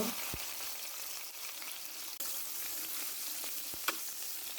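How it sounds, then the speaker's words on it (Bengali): Onion frying in white cooking oil for a prawn and taro stolon curry gives a steady, close broadband sizzle with a few sharp stirring clicks and pops, no voices. "এগুলো বেশি ভাজবো না এক থেকে দু মিনিট ভাজবো"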